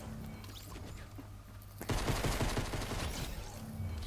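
Rapid burst of video-game gunfire in Fortnite cuts in after a quieter stretch, a dense rattle of repeated shots and impacts at close range with no talking.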